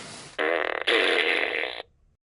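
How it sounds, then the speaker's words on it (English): A cartoonish fart sound effect: one long, loud, buzzing blast with a brief stutter near its start, then a slightly stronger second push that fades out, with no one speaking. "Fart blaster?"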